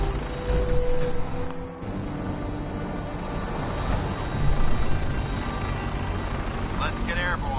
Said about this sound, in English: Get on that gunship, soldier.